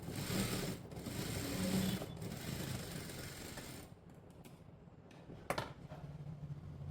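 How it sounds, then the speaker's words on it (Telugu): A sewing machine runs in a steady whirring stitch while a blouse neckline is sewn, then it slows and stops with a couple of faint clicks before the motor hums again, quiet and close. "దీని మీదనే కుట్టు వేసుకుందాం."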